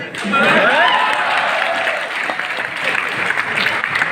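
Audience clapping at an indoor training seminar: a burst of loud, dense applause starts sharply and continues at a steady level, with a voice or two briefly audible early on.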